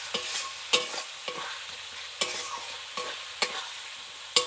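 Chicken gravy sizzles in a pan after a splash of water is added, with a spoon stirring and scraping in repeated sharp strokes over a steady close frying hiss.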